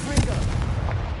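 A Confringo fire spell is cast in the video game Hogwarts Legacy, a short, heavy blast with a booming low rumble lasting about a second.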